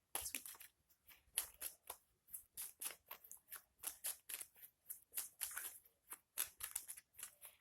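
Rapid, repeated riffling and snapping of cards being shuffled, close and crisp, in quick irregular bursts with no talking.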